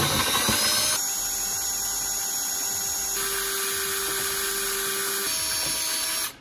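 A drill on low speed spins a beverage can in ice, a steady mechanical whir humming continuously, its tone shifting slightly a few times before cutting off abruptly at the end.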